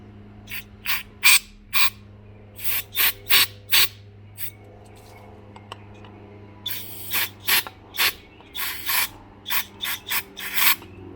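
Aerosol cleaner is blasted through a jet passage of a Weber DCOE 45 carburetor from a 1977 MGB in many short, close hissing spurts, clustered in quick irregular groups with brief pauses between.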